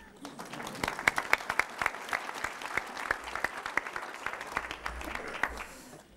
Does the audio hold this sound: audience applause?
yes